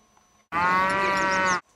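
A cow moos in one loud, sustained, harmonic-rich call of about a second, standing alone against near silence.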